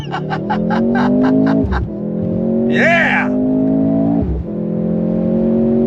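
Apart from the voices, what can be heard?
2023 Mercedes AMG C43 accelerating, 9-speed automatic shifting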